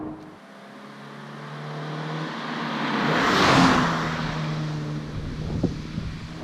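A 2018 Toyota 86 engine revs up close, its tone swelling to a loud peak and then easing back, with a steady mechanical drone and some wind rush around it.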